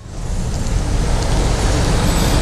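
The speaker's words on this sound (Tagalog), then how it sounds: "Ay, grabe. Buong Metro Manila traffic." Heavy Metro Manila road traffic heard from a Yamaha Aerox S scooter: a loud, steady broadband roar of engines and tyres, close and continuous with no talk.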